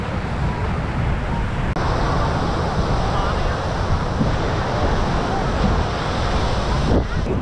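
Steady roar of ocean surf washing onto a beach in fine weather near a cliff, loud and continuous with wind rumble across the microphone and no talk.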